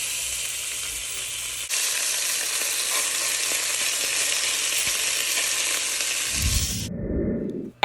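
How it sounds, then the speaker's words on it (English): Floured, seasoned beef sears in hot oil in a pot, giving a loud, steady sizzle and crackle that fills most of the stretch, then cuts off into quieter low rumbling and handling noise near the end. "I'm getting ready to sear it in the pot with the oil so that it can get some brown color on it"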